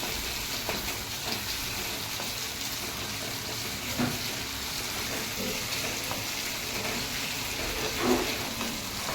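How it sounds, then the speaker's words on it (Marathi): Tomatoes frying in oil in a pan give a steady low sizzle with occasional soft stirring knocks, for a spicy crab curry. "टोमॅटोला पण मस्त असं तेलामध्ये परतून घ्यायचं आहे चांगलं"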